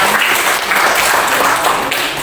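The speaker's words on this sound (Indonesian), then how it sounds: "Beri tepuk tangan untuk Lani dan Bimo." In a classroom, a group of students claps together in a brief, dense burst of applause that stays steady and fairly loud throughout.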